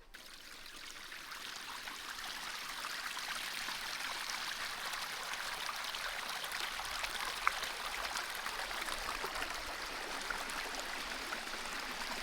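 Water running steadily into a backyard duck pond, a continuous soft trickling and splashing stream at moderate distance, with no voices over it.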